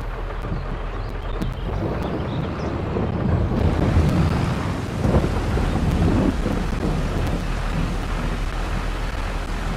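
Steady rain with rumbling thunder in the Farming Simulator 22 video game on a Missouri farm map, a continuous loud wash of rainfall with swells of thunder, no talking.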